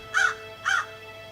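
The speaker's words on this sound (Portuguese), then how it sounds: "o corvo." A crow caws twice in the snowy Grand Canyon, two clear, rasping calls about half a second apart over a quiet, steady background.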